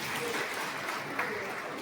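Audience applause at a community gathering of a Brahmin Soni social club in Nadiad, a brief burst of steady clapping from a seated crowd at moderate distance.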